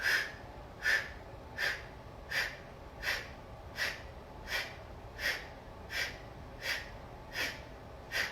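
Rhythmic breathy exhalations out through the lips during a seated yoga twist, about a dozen evenly spaced soft puffs roughly every 0.7 seconds, close and fairly quiet over a faint background hush.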